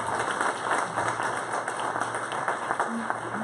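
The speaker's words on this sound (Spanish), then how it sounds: "Démosle un aplauso al Señor." A church congregation applauds throughout, a dense, steady wash of many hands clapping with a few voices mixed in, at an even loudness from start to end.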